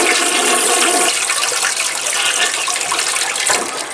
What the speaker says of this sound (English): let's give it for a little flush